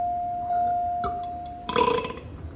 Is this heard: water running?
no